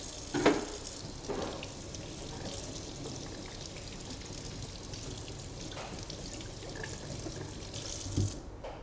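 Tap water runs steadily into a kitchen sink while a bell pepper is rinsed under it, a continuous soft splashing with a few louder knocks and spatters, no voices.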